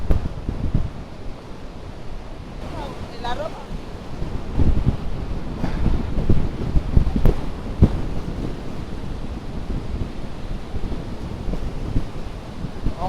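Strong wind buffets the microphone at Iguazu Falls, with a constant rushing roar of water and spray, gusty and loud, punctuated by sharper blasts and no talk.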